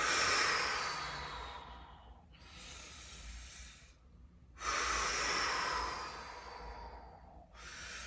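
Deep, slow breaths drawn in and let out during a chakra workout, each long airy exhale and inhale loud and close, alternating in a steady rhythm with no talking.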